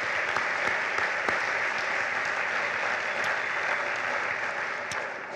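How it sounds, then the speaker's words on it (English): Sustained audience applause at a Rotary service fair event, a dense, even wash of many hands clapping throughout, fairly loud and unbroken, easing slightly at the end. "Let's give them another round of applause for all their great work."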